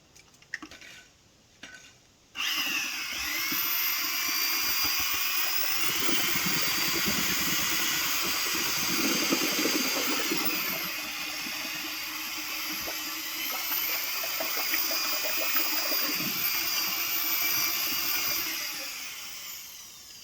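Liquid driveway sealer pours back and forth between buckets, a steady, close gushing splash that runs for about fifteen seconds before easing off, after a few brief knocks of the buckets.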